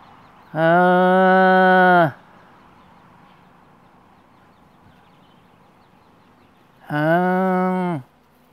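Two long, steady moos sound from cattle in a field, each lasting over a second and separated by a few seconds of quiet outdoor background.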